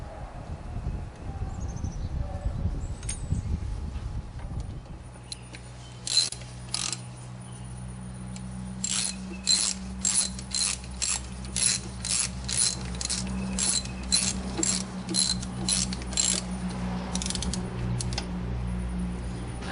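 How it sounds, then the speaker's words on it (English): A ratchet snugs down intake manifold bolts on a Ford Taurus, bursts of rapid clicking pawl strokes repeated in a steady working rhythm, close and fairly quiet after some initial rustling. "I'm not going into sequence yet, I'm just trying to snug them on down there"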